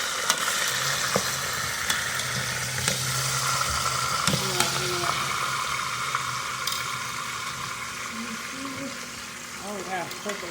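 Pulled pork for carnitas sears in a hot pan with chopped orange, giving a steady close sizzle with scraping and stirring clatter, while a person talks intermittently over it.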